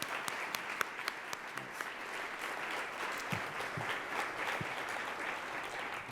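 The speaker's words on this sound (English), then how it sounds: "Let's have a round of applause." A room full of people at a civic club forum claps steadily for several seconds, a dense patter of applause at a moderate, somewhat distant level.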